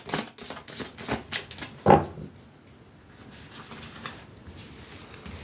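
Tarot cards being shuffled and drawn during a cartomancy reading: a run of quick papery flicks and taps in the first two seconds, ending in one sharper slap, then quiet rustling handling.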